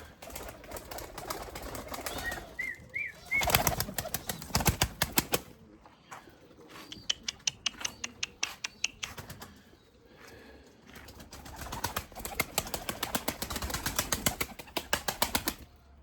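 Limoni breeding pigeons in a loft, with bursts of wing flapping and rustling, scattered cooing and clattering movement, sometimes dense and loud, sometimes sparse, with brief quieter gaps.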